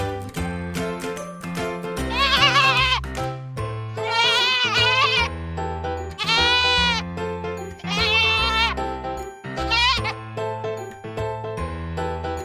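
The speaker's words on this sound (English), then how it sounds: "G-O-A-T, goat." Cartoon goat bleating in a children's animal-sounds song, several wavering bleats repeated over a steady musical backing with jingling tones.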